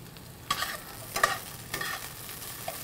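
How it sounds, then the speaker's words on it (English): Onions cook gently in tomato sauce in a restaurant kitchen, a soft low simmer broken by a few quiet spoon clinks and stirring scrapes, no talking. "I just want to get them really cooked really lightly in the tomato sauce"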